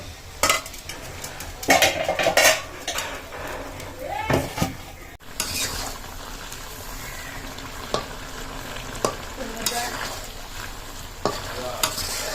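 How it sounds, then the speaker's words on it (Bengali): Gourd being fried and stirred in a pan with fish curry liquid, a steady sizzle beneath repeated scraping and clinking of a spatula against the pan, while a voice talks over part of it. "এখন আমি কুমড়োটা 5-7 মিনিট জাল করে নিব।"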